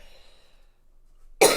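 Near silence gives way to a single sharp, loud cough at the very end.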